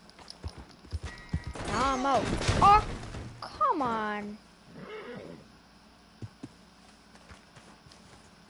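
Horses in the video game Red Dead make a loud, drawn-out whinny and snort, while hooves clop faintly afterward; someone speaks briefly in the middle.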